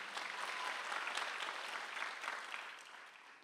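Church congregation applauding during a Sunday worship service, a sustained round of dense clapping that swells and then tapers off near the end, heard at a moderate distance with no speech over it.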